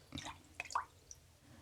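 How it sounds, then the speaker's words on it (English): Liquid drips onto a hand and wrist during hand care, a few soft close wet drips and squishy taps spread over a quiet background. "Let's just see if we can get some dripping down onto the wrist as well"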